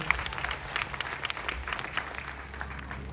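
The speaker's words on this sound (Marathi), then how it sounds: "आज हे MI फॅमिलीसाठी जोरदार टाळ्या झाल्या पाहिजे" Applause fills a hall for the MI family at an event, dense clapping from a sizable crowd lasting a few seconds.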